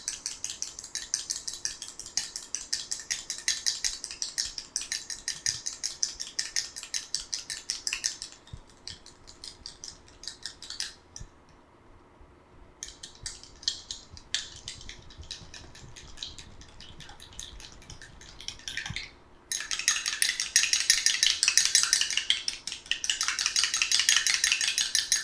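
A sticky homemade face pack mixture is beaten rapidly in a bowl, giving a fast, continuous clicking and slapping rhythm that pauses briefly in the middle and resumes louder toward the end.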